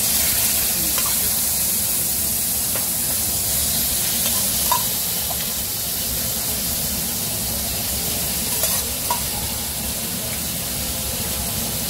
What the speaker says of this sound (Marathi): आपण ह्याला आहे ना शॅलो फ्राय करूया